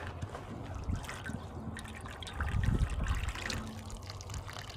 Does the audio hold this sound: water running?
yes